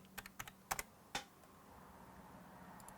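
A short burst of a few crisp keystrokes on a computer keyboard, close and quiet, trailing off into near silence.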